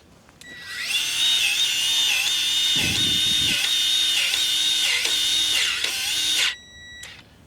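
A power tool for unclogging a stuck grease zerk fitting whines loudly and steadily for about six seconds, with a brief rougher grinding patch midway, then cuts off abruptly; no talk.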